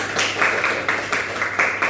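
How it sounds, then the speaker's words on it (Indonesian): A classroom of pupils clapping for a classmate, a dense, steady patter of many hands, loud and close, with no voices over it. "Udah beri tepuk tangan dulu kepada Alif."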